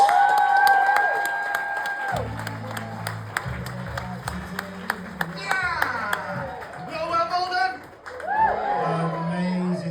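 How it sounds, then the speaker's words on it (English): Audience clapping and cheering at a comedy show rise together over a murmuring crowd, steady applause with scattered sharp claps and a few voices talking. "Charlotte, start the clapping"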